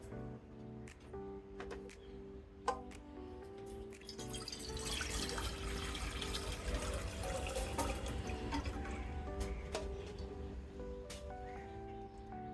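Coconut water pours through a strainer in a steady, splashing trickle that swells after a few scattered drips and handling knocks, fairly close and alone.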